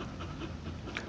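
A dog pants in rapid, steady breaths close by, a continuous breathy rasp through the short stretch, with no talk over it.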